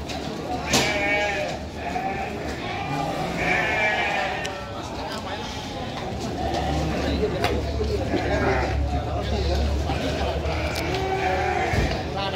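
Sheep bleat repeatedly among livestock at the Tanjungsari market in Sumedang, a busy crowd murmur and background chatter running underneath at a steady, fairly loud level.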